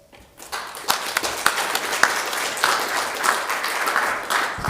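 A conference audience in an auditorium breaks into applause, quickly swelling into dense, continuous clapping with sharper individual claps standing out, fairly close and with almost no talking.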